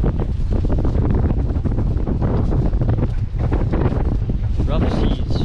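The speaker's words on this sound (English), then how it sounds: "Rough seas. Strong wind." Strong wind roars steadily across the microphone at sea on a fishing boat in rough ocean conditions, a loud, constant buffeting rumble that covers the whole scene with hints of voices beneath.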